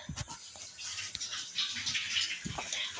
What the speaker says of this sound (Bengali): এখনো টমেটো ধুয়ে নিয়ে আসছে